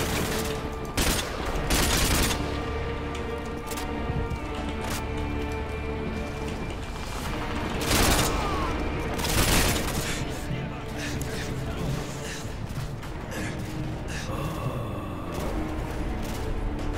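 Rapid bursts of gunfire and grenade blasts from a Call of Duty: Modern Warfare 2 Spec Ops match, with several loud bangs around two, eight and nine-and-a-half seconds over continuous crackling combat noise and intermittent talk.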